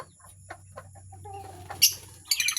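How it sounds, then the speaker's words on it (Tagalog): A large bird in a yard gives a few soft clucks, then a sharper squawk, against a quiet steady background hum. "Ito, malaking ibon. Yan o, ibon."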